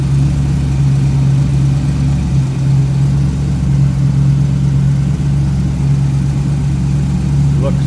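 A 1934 Ford pickup street rod with a 5.7 liter GM crate engine, Edelbrock 4-barrel carburetor and GM intake, idles smoothly and steadily up close, a loud even low rumble throughout.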